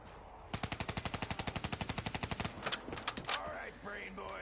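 The Cuda gun in a zombie video game fires a fast, even burst of around two dozen loud rounds. A few scattered shots follow, then a voice speaks briefly.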